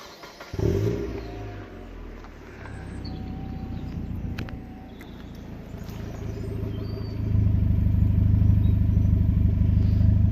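A Mazda 323F engine starts up and idles with a deep, throaty exhaust rumble that grows louder and heavier partway through, with no talking.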